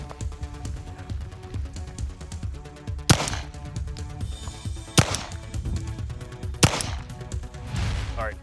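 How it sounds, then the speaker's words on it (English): Pistol shots fired at a target range at distances of 7 to 25 yards, three sharp loud cracks spaced a couple of seconds apart over background music and low murmur. "She will take 10 shots at distances of 7, 15, and 25 yards."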